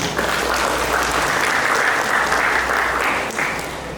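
Audience at an Indonesian regency political education event breaking into sustained, dense applause that carries at steady volume for several seconds before thinning slightly.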